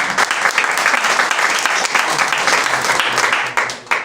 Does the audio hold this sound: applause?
yes